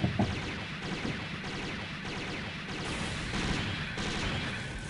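Rapid beam machine gun fire from a Cherudim Gundam SAGA in SD Gundam Online, a steady stream of clipped shots repeating for about five seconds, fairly loud with faint game ambience beneath.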